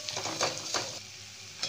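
Turmeric, red chilli and cumin powders roasting in a pan for a yogurt potato curry, with a steady soft sizzle and a few scraping stirs of a spoon, close and fairly quiet.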